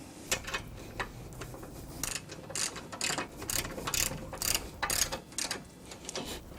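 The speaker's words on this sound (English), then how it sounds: "let's pull that up snug with a ratchet" A ratchet wrench snugging a nut on a vehicle suspension during an overhaul, its rapid clicking bursts repeating in uneven spurts close to the mic with no talk.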